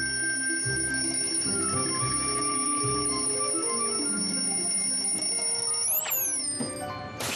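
An alarm clock rings in a Garfield cartoon, a steady loud bell-like tone sounding continuously alone over a bed of background music, rising in pitch near the end.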